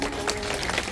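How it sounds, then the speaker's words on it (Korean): Congratulatory applause from the crowd at a park golf tournament award ceremony in Guro, a dense, steady wash of many clapping hands, loud and continuous throughout the short stretch. "축하의 박수 부탁드립니다."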